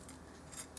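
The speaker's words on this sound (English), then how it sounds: "I'm going to cut more chain than I need" Miniature chain for a dollhouse swing is snipped with a small cutter, giving a couple of faint, quick clicks close by in a quiet room.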